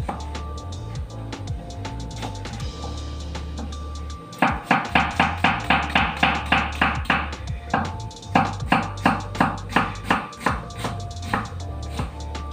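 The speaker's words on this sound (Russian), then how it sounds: "Нарезаю его кубиком" A knife dices an onion rapidly on a cutting board in steady, even strokes, pausing briefly between runs, close and distinct with no talking.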